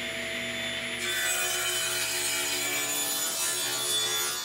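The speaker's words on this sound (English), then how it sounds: "So the first one I'm going to cut it all the way through" A wooden Celtic knot blank is sawn all the way through, a continuous close rasping cut with steady even strokes and no speech.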